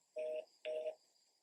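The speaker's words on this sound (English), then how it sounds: "Busy tone." A telephone busy tone sounds through a handset, two steady beeps with a short gap between them, heard clearly without any talk.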